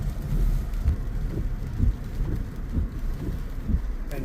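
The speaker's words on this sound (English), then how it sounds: "You can see it's raining right now." Rain falls on a 2021 Toyota C-HR, a steady close patter and hiss with soft low rumbling thumps from wind buffeting the microphone.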